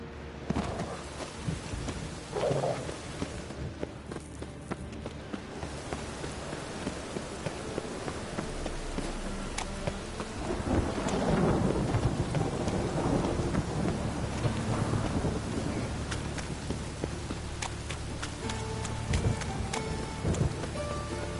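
Steady rain with rolling thunder in The Witcher 3, a continuous downpour that swells into a louder, rumbling stretch midway and keeps going without any voices.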